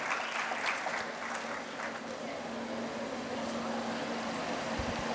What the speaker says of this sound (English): Can we hear a round of applause as we welcome Mohammed Yusuf Swaroop?